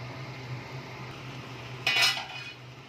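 Marinated chicken stirred with spices in a pan: a quiet background hum, then one brief, bright metallic clatter of a utensil against the pan, with no voices.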